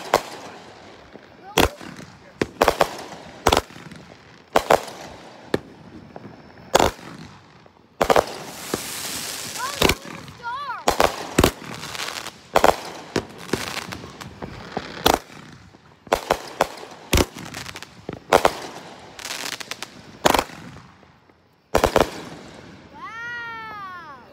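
King of the Block consumer firework going off at a Fourth of July celebration: a long string of sharp crackling bangs and bursts at irregular intervals, with a loud crackling spell partway through and whistling tails near the end.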